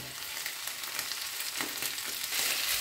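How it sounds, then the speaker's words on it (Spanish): Purslane sautéing in a frying pan with already fried potatoes and onion gives a steady, close hiss of sizzling oil with faint crackles and occasional stirring scrapes, no voices. "Vamos a saltear la verdolaga 5 minutos"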